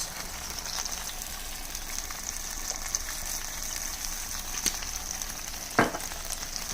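Chop suey with imitation crab meat sizzles and fries steadily in a pan as soy sauce is added, a continuous hiss with a few sharp pops and clinks of stirring.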